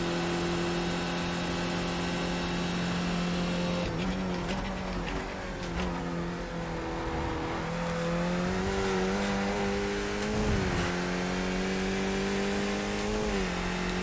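A race car in a racing video game laps the Nürburgring GP circuit, with a loud, buzzing engine tone that climbs and drops through gear changes and braking, continuous and close, without talk.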